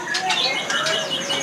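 A murai batu (white-rumped magpie-robin) sings close by, bright varied chirps and whistled phrases in quick succession.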